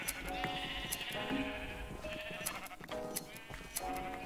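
Sheep bleat repeatedly in Minecraft, overlapping wavering calls from several animals close by, steady and moderately loud throughout with no talk.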